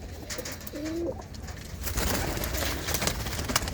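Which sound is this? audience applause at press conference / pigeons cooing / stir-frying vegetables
pigeons cooing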